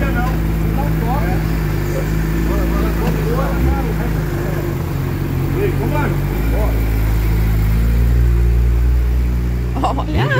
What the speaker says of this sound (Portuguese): A primeira Hayabusa do Brasil, do meu amigo Carlos Souto Maior, saindo aqui da fábrica da Suzuki em Manaus